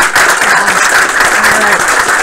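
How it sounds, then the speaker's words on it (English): Applause from a game studio build review audience, steady dense clapping of a group heard fairly close, with a faint murmur of speech under it. "can we all give our online team members a round of applause"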